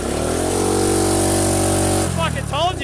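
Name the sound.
old carbureted engine cold starting in winter at full throttle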